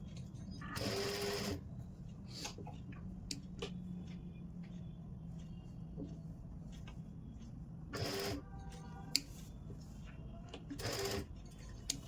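Sewing machine stitching the pointed tip of a suit's shirt-style collar, heard as several short bursts of whirring separated by quiet pauses with soft handling noises.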